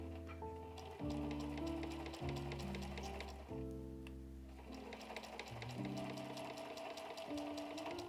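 Sewing machine running steadily along the edge of quilt batting while assembling a bag made from woven fabric selvedge, a continuous rhythmic stitching chatter with slight pauses and speed changes throughout.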